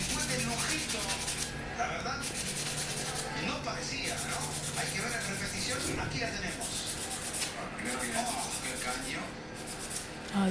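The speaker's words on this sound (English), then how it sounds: "But I'm still sanding boards." Fingerboard decks being sanded by hand, a continuous scratchy rubbing in repeated strokes with brief pauses, fairly close, with a sports game commentary playing faintly underneath.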